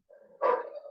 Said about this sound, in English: Obviously that's a dog.